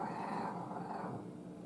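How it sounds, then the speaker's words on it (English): Dogs, among them a small Chihuahua, growl as they fight over blankets indoors, a faint low rumble that runs briefly and without pause. "Don't mind the dogs,"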